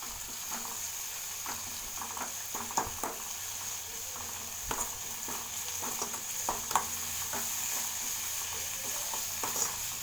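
Cumin and ginger are stir-fried for jeera rice, giving a continuous close sizzle broken by frequent soft scrapes and light ticks of a utensil against the pan at an irregular pace.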